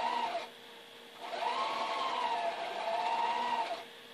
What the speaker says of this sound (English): I'm going to sew this one down